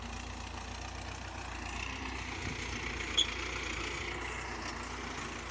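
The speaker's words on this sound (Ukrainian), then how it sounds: "їде трактор з удобренням." A tractor hauling fertilizer rumbles steadily at a low idle, fairly close, with no voices.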